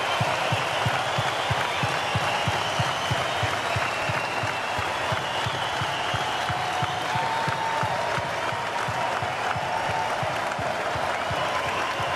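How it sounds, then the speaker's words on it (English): Sustained applause from a crowd in an arena, honoring the late sideline reporter Craig, with dense steady clapping that holds loud and even throughout. "join me in an applause for a great man and a life well lived"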